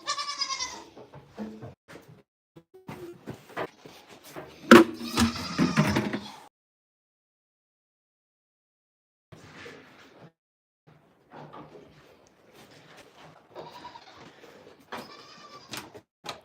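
Several goats bleat in short wavering calls, with a louder cluster of bleats early on, then a quiet gap before more scattered bleating returns.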